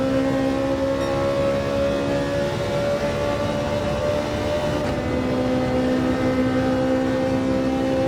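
A Toyota Camry GT3 race car battles a Ferrari 458 in Gran Turismo 7, a steady sustained engine whine holding a high pitch at constant loudness, with no talk over it.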